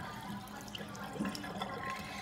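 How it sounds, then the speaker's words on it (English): Water being poured off rice as it is washed, a soft steady splashing and trickling of liquid, fairly faint and continuous with no talking. "Now make sure whenever you're pouring it out, you don't do it too fast, or else all the water will go with it."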